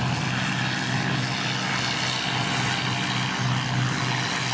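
A propeller airliner on the Queenstown service at Christchurch Airport, its engine drone a steady, loud, broadband roar held throughout with no talk.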